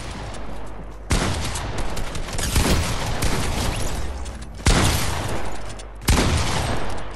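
Gunfire in Fortnite Creative: loud, continuous bursts of rapid automatic fire come in several long runs, each starting with a sharp onset and separated by brief gaps.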